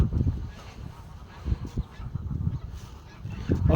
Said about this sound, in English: A beautiful sound from the birds.